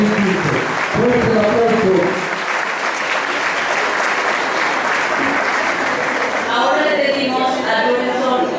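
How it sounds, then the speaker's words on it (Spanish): Strong audience applause at a secondary school coronation and Mother's Day festival, loud and continuous, with voices and some music at the start and near the end. "Fuerte el aplauso."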